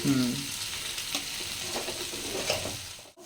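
Jackfruit and potato fry in a pan with a dense, steady sizzle, broken by a few stirring scrapes and clinks. Close and fairly loud, with no one talking.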